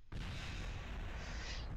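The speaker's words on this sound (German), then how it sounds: "Und wir sind explodiert." A rocket crashes and explodes in Kerbal Space Program, bursting into a sudden loud boom that settles into a sustained roaring rumble and hiss.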